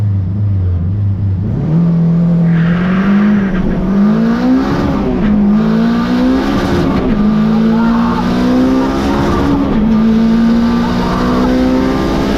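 A £900 Honda Civic revs loudly while warming its tyres before a launch, the engine note climbing and holding steady over squealing rubber for about twelve seconds, close and continuous.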